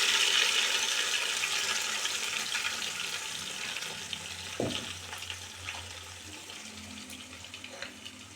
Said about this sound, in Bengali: কড়াই তেল গরম হয়ে গেছে, কালো জিরে ফোড়ন দিয়ে দেব